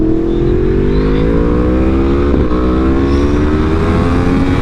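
A Yamaha R1 sport motorcycle cruising at night, its engine a loud, close, continuous droning whine with rising harmonics as it pulls steadily, and steady wind roar running throughout, with no voices.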